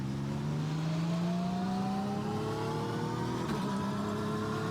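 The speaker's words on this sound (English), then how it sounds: "This is a fantastic car, and it sounds absolutely glorious." A race car engine at the Hockenheim circuit in the video game iRacing revs steadily upward in pitch as the car accelerates. The engine is loud and continuous, with a brief rough blip near the end.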